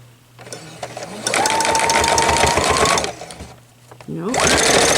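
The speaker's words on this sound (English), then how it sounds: "So we're just going to sew the yellow strip down to the quilted fabric." A sewing machine stitches a yellow strip onto quilted fabric, running in two steady whirring bursts with a short pause between them, loud and close, while a person talks over it.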